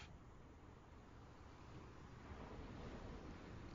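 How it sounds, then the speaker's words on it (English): Ocean waves wash steadily in the background of a calm ASMR sleep setting, a soft, continuous surf hiss with low rumble that swells slightly toward the end, with no voices. "just let the sound of the waves drift in the background"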